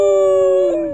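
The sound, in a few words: person imitating a wolf howl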